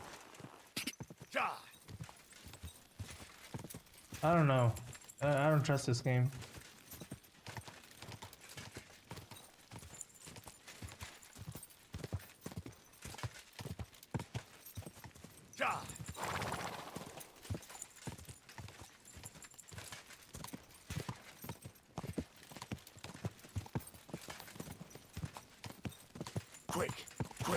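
Horse hooves clip-clop at a steady walking pace in a video game, with a whinny partway through, while a player talks over the repeated footfalls.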